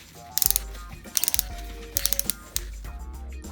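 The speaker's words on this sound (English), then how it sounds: "You flip the switch, you can have it rotating clockwise or anti-clockwise, just on a ratchet system." Ratchet screwdriver from a pink Hi-Spec Apollo household DIY tool kit, clicking as it turns: quick bursts of crisp, close clicks in three or four short runs with brief pauses, no talking.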